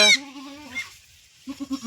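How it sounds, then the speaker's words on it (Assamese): Young Beetal cross goat kids bleating close by: a long wavering bleat, then after a short gap a quicker, stuttering bleat, loud and clear with no talk. "বিটেল ক্ৰস ছাগলী চানা আজি আমাৰ জাগিছে"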